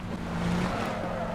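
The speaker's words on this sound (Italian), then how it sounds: "C'è una macchina a sinistra." A car rolls past in the shooter game PUBG as a steady, moderately loud engine drone with a low hum, holding level through the short stretch.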